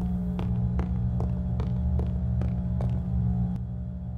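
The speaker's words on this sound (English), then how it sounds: "This room is a little loud. With the humming." A low, steady throbbing hum fills a room in the Garry's Mod map gm_dreams, constant and loud, with a series of regular faint clicks ticking over it.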